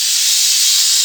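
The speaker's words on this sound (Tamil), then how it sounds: "லோ ஃப்ளேமில் 2 விசில் வந்துருச்சு" A pressure cooker whistle vents steam on a low flame while mutton biryani cooks. A loud, close, continuous hiss holds steady for about a second.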